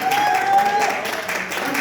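Applause from an audience at a live stage show, a steady wash of clapping running through the whole short stretch, fairly loud and close, with a thin tone and some voices mixed in.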